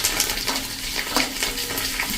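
Steady crackling and sizzling of spices and curry leaves frying in hot oil over a low gas flame, with a few small metallic clinks, close by and fairly loud throughout.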